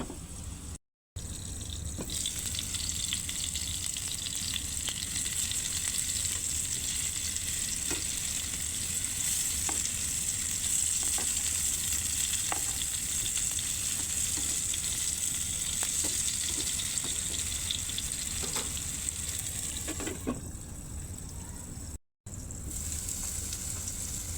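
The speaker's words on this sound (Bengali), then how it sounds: "কুমড়োগুলো ভাজা হয়ে গেছে।" Ash gourd pieces sizzle and crackle steadily in a hot pan, a loud, continuous frying hiss with faint stirring clicks throughout and no talking.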